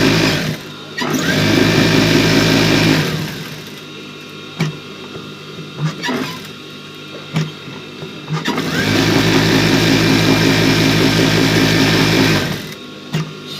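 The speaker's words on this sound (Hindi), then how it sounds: "फोल्ड करने के बाद में बराबर बूट की चौड़ाई की हम सिलाई मारेंगे" Sewing machine stitching a men's shirt hem, running in two long loud bursts at the start and end, with short clicks and handling noises in the pause between.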